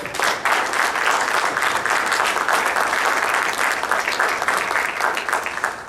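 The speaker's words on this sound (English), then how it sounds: "let's thank our panel by showing them with a round of applause" Sustained audience applause at a youth summit, thanking a panel; dense, steady clapping from a full room lasting throughout, loud and even with no talk over it.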